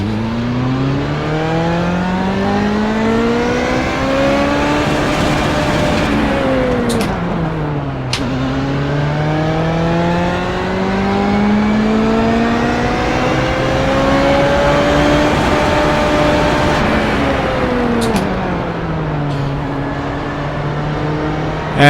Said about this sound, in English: running full throttle from a fairly low RPM right up to the limiter, and then just doing the same thing in every gear